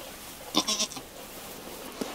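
A nanny goat on a farm during kidding season gives a short, wavering bleat, repeated in a few quick pulses, then one fainter call follows in a quiet setting.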